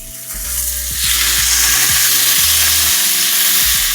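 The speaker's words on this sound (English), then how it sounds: "So we're gonna let these steaks get a nice sear." Ribeye steaks searing in a hot oiled pan, a loud, steady, close sizzle that swells after the first second and holds, with faint low tones from the stovetop beneath.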